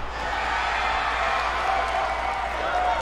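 Crowd at a wrestling show cheers and applauds in a steady, dense wash of clapping and voices, continuous and fairly loud throughout.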